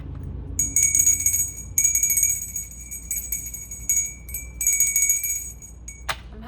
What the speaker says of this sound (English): I'm having to use that bell a lot this reading.